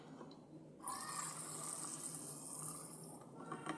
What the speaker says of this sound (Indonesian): Dan jangan lupa ini untuk dibilas.